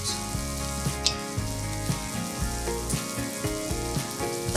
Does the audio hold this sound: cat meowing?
no